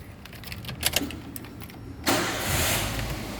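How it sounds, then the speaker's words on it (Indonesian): A 2010 Toyota Avanza 1.3 G manual's engine cranks briefly, then catches and settles into a steady, loud running rumble, preceded by a few clicks and small mechanical knocks. "sekarang kita masuk ke dalam, kita coba nyalakan mesin mobil."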